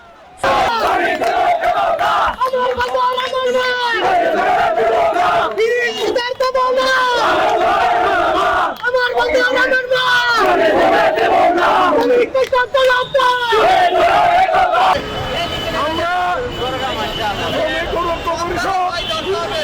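Workers at a street protest march in Halishahar chant slogans in call-and-response waves, a lead voice answered by a loud crowd, with steady outdoor hubbub between the chants.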